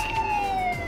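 A police siren on the Pinball FX2 Ant-Man pinball table sounds as a short, steady electronic wail that holds near a constant pitch and then drops slightly toward the end. It is heard alone and lasts under a second.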